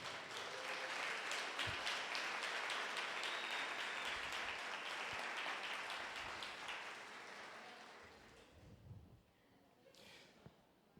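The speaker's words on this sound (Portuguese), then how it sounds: "Vamos aplaudir Jesus?" A church congregation bursts into dense, sustained applause that gradually thins and fades out, a few voices sounding near the end.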